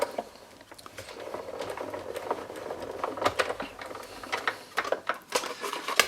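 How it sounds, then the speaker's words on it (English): A Sizzix die-cutting machine rolls a die and stencil film sandwiched between two plates, producing a run of close mechanical clicks and ratcheting taps that grow busier toward the end. "sandwich between my 2 plates, and pass it through the machine"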